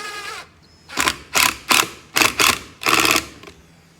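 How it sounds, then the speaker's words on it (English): An impact driver screws a handle onto a wooden float base, firing in about six loud, close, rattling bursts separated by brief pauses, with no talk. "And now using your impact driver, okay, and just very carefully"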